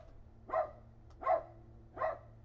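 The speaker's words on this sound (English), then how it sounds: "my dog's barking at other dogs" A small terrier barks three times in evenly spaced bursts, fairly close, over a steady low hum.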